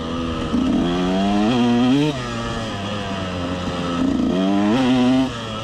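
A KTM 125 SX two-stroke dirt bike engine revs hard while riding, rising and falling in repeated loud surges close by, with no talk over it.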